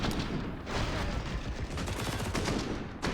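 Rapid bursts of MP9 submachine gun fire from Counter-Strike, a professional esports match, crackle in quick repeated volleys, loud and dense, with overlapping shots and brief gaps between bursts.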